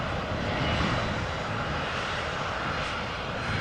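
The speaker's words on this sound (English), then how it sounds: "a 777-200 that is coming our way has landed, coming home from Cape Town, South Africa" A Boeing 777-200 lands at Amsterdam Schiphol after a flight from Cape Town, giving a steady, moderately loud jet engine roar with no break across its few seconds.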